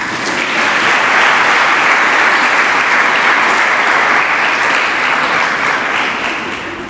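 Female college students at Government College Lakhanmajra burst into loud, sustained applause from a packed room, the clapping swelling quickly and holding steady for several seconds before easing off.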